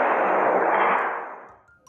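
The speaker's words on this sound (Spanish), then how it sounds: "a los pocos segundos se oye un disparo" A single loud, booming gunshot from a film with a long echoing decay that fades over about a second, with no talking.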